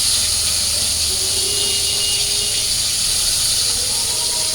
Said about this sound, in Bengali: আমি মাথাগুলো ভাইজা নিচ্ছি।